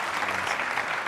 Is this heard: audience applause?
yes